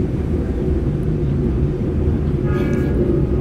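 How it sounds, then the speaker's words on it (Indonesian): Passenger train of Indonesian railways, the Bokowonto, passing on the line opposite the Argo Semeru, a steady loud low rumble throughout with a brief higher whine near the end. "Terlihat di ujung sana ada kereta api yang akan berpapasan dengan kereta api Argo Semeru"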